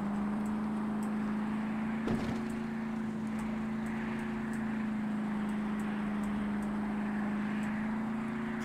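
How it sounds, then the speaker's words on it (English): Car wheels spinning in the military video game Arma 3: a steady, loud engine whine holds one pitch without a break for about nine seconds, with a brief clunk near the two-second mark. "Just sounds like we're wheel spinning the entire time."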